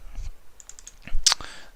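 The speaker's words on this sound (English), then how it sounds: "Start typing in median, and we can double click that." A few quick, light keystrokes on a computer keyboard while entering a spreadsheet formula, soft close clicks with a brief louder click burst near the end.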